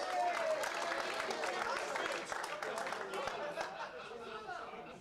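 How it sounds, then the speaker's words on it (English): Audience applause and chatter for the referee at a darts money match, a faint, steady patter of many hands clapping that tapers off toward the end. "A big round of applause for Yvonne, please."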